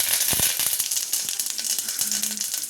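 Mustard seeds, cumin and curry leaves hit hot oil in a home kitchen, giving a continuous bright sizzle with scattered sharp crackles and pops, close and fairly loud, with no talking.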